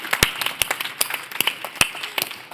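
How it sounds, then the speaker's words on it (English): Sparse, scattered claps from a small audience at a tech inclusion panel event in San Francisco, a few sharp separate hand claps rather than full applause, fairly close and moderately loud with no talking. "Let's give Allie a round of applause."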